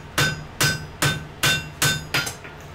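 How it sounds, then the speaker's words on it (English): Six evenly paced, ringing hammer blows strike hot wrought iron on an anvil while a bevel is forged, each impact sharp and close with a brief metallic ring, and no talking. "I'm just going to forge down a bevel."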